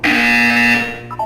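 Buzzer from the video game Portal 2, one loud, sustained electronic tone that holds steady and then trails off into a short, quieter second note.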